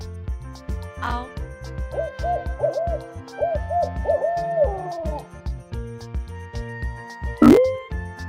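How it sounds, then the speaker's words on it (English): An owl hoots in a run of soft, wavering calls over a cheerful musical backing with plinking notes, then a louder single cry near the end. "Owl."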